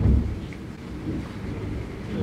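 Steady rain with a low rumble of thunder heard from indoors, a continuous wash of noise at moderate loudness with no talking.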